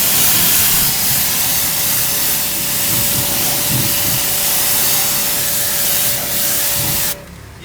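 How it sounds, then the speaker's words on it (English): A pressure sprayer running at about 3,000 psi lays a light mist over car carpets, making a loud, steady hiss that holds for several seconds and then cuts off abruptly. "We're going to spray it. It's a light mist, not real heavy"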